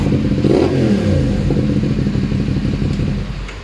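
A remapped 450SR motorcycle engine revs up close and loud, its pitch climbing in the first second then settling into a steady, rough, rattly high idle with harmonic whine, heard alone for about four seconds.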